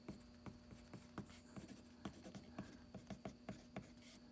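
AmazonBasics mechanical drafting pencil writing on paper, a faint run of short scratchy strokes and light taps in an irregular rhythm, close and quiet with no talking.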